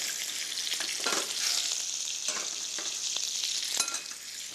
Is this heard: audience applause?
no